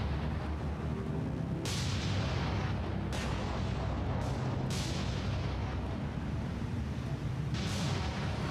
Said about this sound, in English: The battleship salvos are so pretty in this.